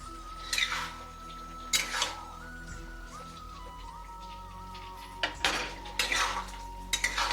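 Young jackfruit curry being cooked and stirred in a pot, giving several sharp metallic clinks and scrapes of a spoon against the vessel in bursts over a steady low hum, with no talking.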